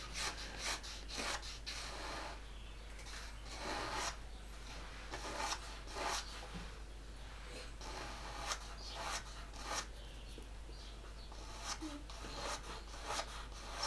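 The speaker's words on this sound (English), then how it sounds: "bits of scratching noises. She likes to dig on the mat." Repeated scratchy rasping and scraping bursts from a dog digging at a mat, irregular rhythm, faint against a low steady hum.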